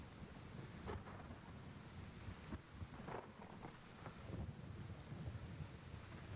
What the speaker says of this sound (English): the sound of the rain hitting the tarp even sounds good